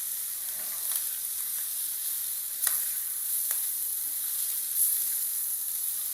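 Small fish fry in a pan with coriander sprinkled over them, giving a steady, fairly quiet hissing sizzle with a few faint clicks of stirring and no talk.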